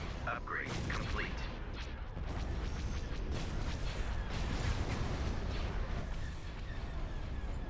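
Hypervelocity cannon fire from the Star Wars Empire at War space battle game, heavy repeated booming blasts over a dense rumbling wash of battle noise with voices.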